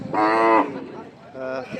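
A cow at a busy cattle market gives two loud, close moos, the first long and the second shorter, separated by a brief pause with faint background noise.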